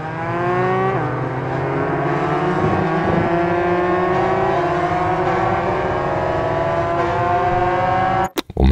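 Motorcycle engines race in the video game Ride 5, a loud, sustained high-revving whine that climbs steadily through the gears, with a brief drop and cut near the end.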